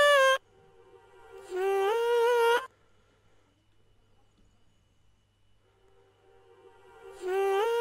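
A dry, unprocessed singing voice in short sung phrases with pitch slides, separated by silence; close, clean and without echo.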